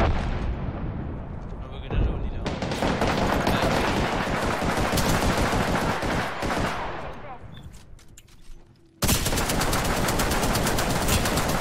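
Dense automatic gunfire and explosions in a match of Apex Legends, loud and continuous, dropping briefly before a sudden renewed burst, with a player talking over it.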